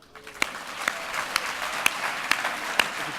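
An audience at an economic awards ceremony applauds, a steady wash of clapping from a crowd with a few sharper individual claps standing out at regular intervals, moderately loud and without talk.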